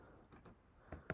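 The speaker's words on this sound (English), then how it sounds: "you can either type Control Z or Command Z on your keyboard to undo" Keystrokes on a computer keyboard as an undo shortcut, Control Z, is entered: a few quiet, separate clicks spread over about a second, with the last press a little sharper and closer than the rest.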